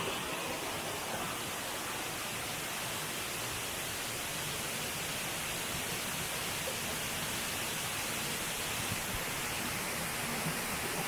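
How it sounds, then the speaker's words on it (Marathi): Steady, dense rushing of a flowing stream beside the Shevradevi temple in Konkan during the rain season, a constant broadband wash of water with no voices over it. "बघा वरून प्रवाह बघा सुंदर"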